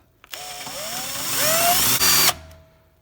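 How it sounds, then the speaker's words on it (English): A power drill drills out stripped screws on a Porsche 911 996 front brake, whining up in pitch for a couple of seconds, briefly cutting out, then spinning again before stopping, close and loud. "So what I'm doing is I'm going to just drill them out a little bit."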